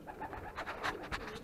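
Pigeons in a loft coo softly in short, repeated bursts, close and fairly quiet, with a gentle rolling rhythm and no talk over them.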